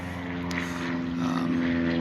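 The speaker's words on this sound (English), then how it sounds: "You get the occasional airplane interruption there." A propeller airplane drones steadily overhead outdoors among trees, a continuous moderate hum that grows slightly louder near the end.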